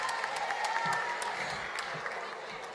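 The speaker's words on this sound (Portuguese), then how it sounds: "Uma salva de palmas, Keila, Janja." Applause from an audience at a cultural event in the Teatro da Paz, a steady wash of clapping with some crowd noise, moderately loud throughout.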